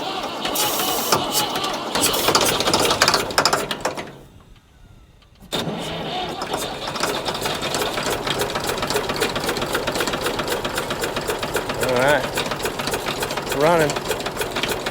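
A massive old Ford tractor engine runs with a steady rhythmic chug and knock, briefly dropping away before resuming, while people talk over it.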